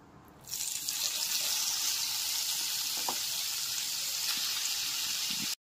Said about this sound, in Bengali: তেলটা এখানে খুব ভালো মতো গরম করে নিয়েছি। এবার এতে ম্যারিনেট করা চিকেনের টুকরোগুলোকে দিয়ে দিচ্ছি।